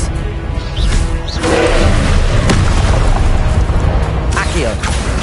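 Spell explosions in Hogwarts Legacy during a troll battle, deep booming blasts and rumbling over game noise, with a voice calling out spell names.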